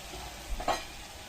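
Turmeric and coriander-cumin powder are stirred with a little water in a frying pan, giving a soft sizzle with a brief scrape of the spoon, faint and close.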